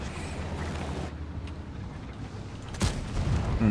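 A single tank cannon shot firing gold ammunition in a tank video game, the Lorraine 50 t: one sharp loud blast near the end after a quieter rumbling stretch.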